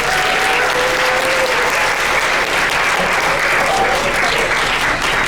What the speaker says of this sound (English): Let's give a round of applause for Fifi.